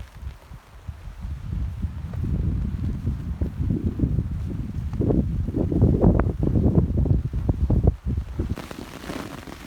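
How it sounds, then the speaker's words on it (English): Strong 40 to 50 mph wind gusts at a campsite, buffeting the microphone with loud low rumbling and roaring for several seconds before dropping away abruptly near the end. "We've got 40 and 50 mile an hour winds here."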